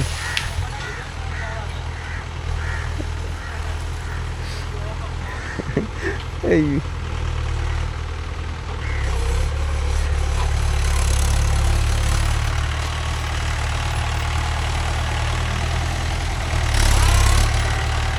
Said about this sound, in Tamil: ரிவேர்ஸ் போகும்போது வண்டி ரொம்ப மொல்ல போகும்டா